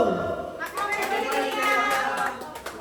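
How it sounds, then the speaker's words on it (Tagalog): A group of children and adults claps hands together for a birthday greeting: a brisk burst of many overlapping claps close by, mixed with lively voices talking and calling out. "all you have to do is clap your hands"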